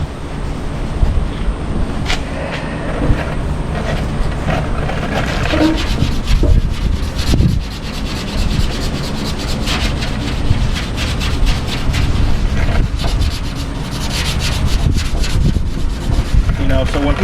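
Steady hand sanding on the body of a 1959 Impala with a cut-down Durablock sanding block, a loud continuous rasping scrub in long back-and-forth strokes, close up with no talk.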